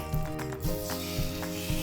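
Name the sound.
steak sizzling in frying pan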